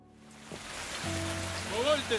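Steady rain falls, heard as a continuous hiss with a low hum underneath, while a voice speaks briefly toward the end.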